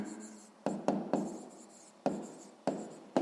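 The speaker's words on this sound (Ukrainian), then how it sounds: "Записуємо відповідь." Pen or pencil scratching on paper while an answer is written by hand, a short series of quiet, close strokes in separate bursts with pauses between them.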